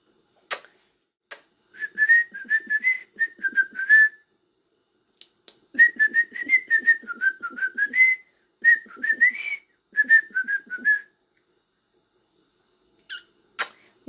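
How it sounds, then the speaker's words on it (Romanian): A person whistles to a pet bird in a room, bursts of tuneful chirping whistles in three separate phrases with short pauses between them. No talking. "îi place să-i fluier"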